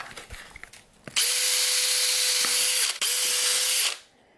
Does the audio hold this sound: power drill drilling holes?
yes